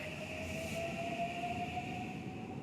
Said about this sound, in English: Train above.